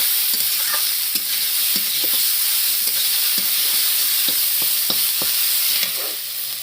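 Fried rice with tomatoes sizzles loudly and continuously in a pan while a spatula stirs it, adding a string of light scraping taps at an uneven rhythm over the constant hiss.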